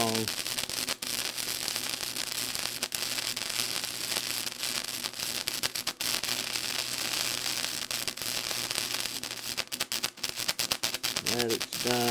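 Crackling, sputtering wire-feed welding runs steadily and fairly loud for the whole stretch, with irregular pops and spits from an inconsistent feed rate, a low steady hum beneath and a brief voice near the end.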